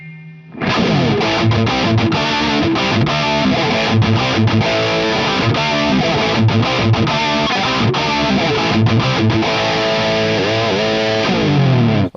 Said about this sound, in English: you can hear that in the next example with the more crunchy tone